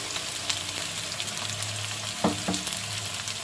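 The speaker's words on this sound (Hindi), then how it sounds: "ऑयल हमारा गरम हो चुका है। अब हम इसमें प्याज कटिंग किया हुआ डालेंगे।" Chopped onions, four large ones, frying in hot oil for a mutton biryani: a soft, continuous sizzle with a couple of brief stirring clinks, under faint background music.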